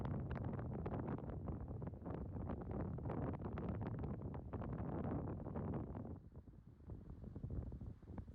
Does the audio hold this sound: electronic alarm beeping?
no